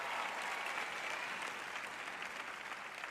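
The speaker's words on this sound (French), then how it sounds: "Je vous applaudis." Audience applause at a Christian teaching meeting, a continuous, even patter of many hands clapping, somewhat distant and softening slightly toward the end.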